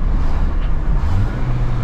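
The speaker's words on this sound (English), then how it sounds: "Should I downshift? I'm gonna downshift for y'all." A manual Honda CR-V with VTEC holds a steady engine drone as it downshifts from third gear, with low engine tones shifting pitch slightly, heard from inside the cabin without talk.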